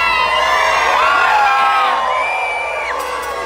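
Large crowd cheering and shouting Happy New Year together at a New Year's countdown event, a loud burst of whoops and yells that gradually fades.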